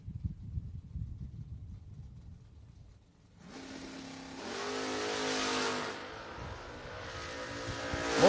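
A Mustang drag racing car launches and accelerates down the track at a bracket racing event, its engine rising into a loud, sustained roar with one shift-like dip before climbing again, after a quieter stretch of low ambient rumble.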